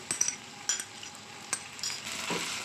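Onions fried with ginger-garlic paste for prawn bhuna hiss and sizzle in a pan, broken by several sharp spoon scrapes and stirring knocks, with the frying growing a little louder toward the end.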